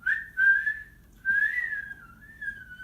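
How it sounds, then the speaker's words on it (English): A person whistles to a pet bird perched by a bathtub at home: two clear, close, sliding whistled phrases, each holding a steady pitch before gliding up and down, with quiet pauses between and no talking. "can you whistle?"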